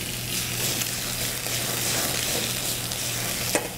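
Shrimp sauté in a pan, a steady close sizzle and light crackle with occasional tossing movements and a brief clink near the end.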